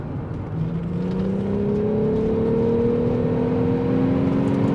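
A supercharged VR6 engine in a Volkswagen Corrado revs hard at wide open throttle, its steady rising whine climbing in pitch across the run, loud and close with no voices.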